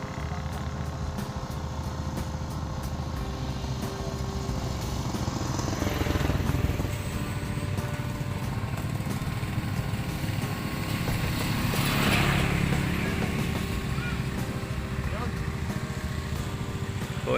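Several motorcycle engines idle and rumble steadily in the open during a motorcycle club ride in Pangasinan, with revs swelling around the middle and again later, while people talk faintly in the background.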